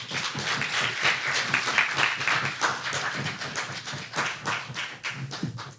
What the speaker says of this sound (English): Could you give her a round of applause one more time?